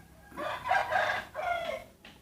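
A farmyard with chickens and ducks beside flowering longan trees, heard as two or three loud, close bursts of crowing and clucking fowl calls in quick succession, with no talk.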